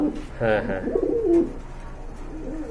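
A large pigeon coos close by, a short rolling call with a few throaty bursts, followed by quieter background sound.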